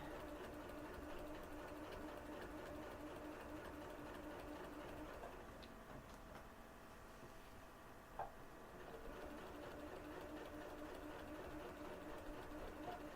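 A home sewing machine runs steadily, stitching quilting lines for a camping project, as a low, constant mechanical hum with faint ticks throughout and no pause in the running.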